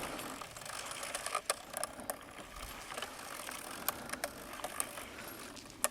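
Earthway garden seeder pushed along a row planting seeds, with soft continuous mechanical clicking and rattling from its chain and wheels plus occasional sharper ticks, faint and steady.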